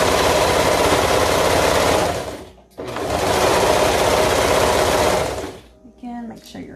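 A sewing machine stitches toddler maxi dress fabric around curves in two long, loud runs of rapid, close needle chatter with a short pause between them, then stops.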